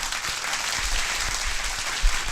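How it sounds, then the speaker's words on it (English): A round of applause, steady and fairly loud, dense broadband clapping throughout with a brief thump near the end, no talk over it. "Round of applause for Ann H. over here."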